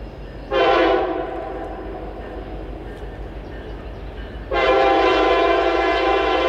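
A loud, sustained Norfolk Southern freight train horn blasts twice, close by, over a steady low rumble of the passing train between the blasts, in Valley Head, Alabama.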